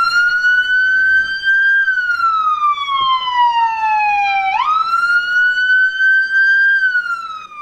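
A Red Cross volunteer ambulance siren in Napo sounds loud and alone, one long wailing tone sweeping slowly down and then back up with a sharp jump, steady throughout.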